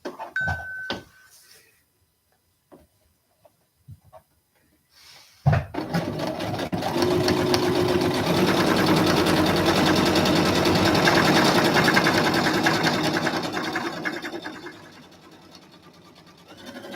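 A sewing machine stitching thin fabric, near and loud: a few soft handling clicks and bumps first, then the motor starts and runs a long steady whirring stitch before slowing toward the end.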